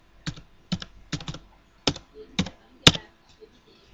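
Typing an ID on a computer keyboard, sharp close key clicks in short clustered bursts with brief pauses between them, ending with one harder keystroke.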